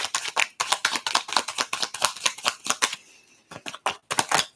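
Cards being shuffled in quick riffling bursts, close up, with a short pause before the rapid flicking resumes.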